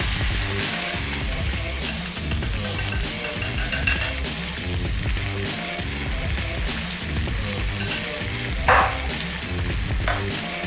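Steak stir-fry with a soy sauce mixture sizzles loudly in the pan while being stirred, a dense continuous hiss with scraping and an occasional metallic clink near the end.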